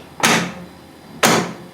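A door on a restored 1955 Chevy truck slams shut twice, about a second apart, each a close, solid thump with a short ringing decay.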